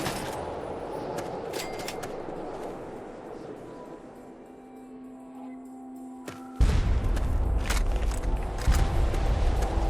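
Fallout 3 battle gunfire rattles at first, then a heavy booming barrage of shots and blasts breaks in suddenly and stays loud and dense to the end.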